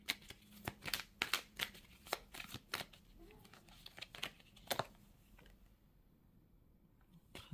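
Tarot cards being laid out on a surface, a quick series of crisp slaps and papery shuffles near at hand that trail off into sparser rustles.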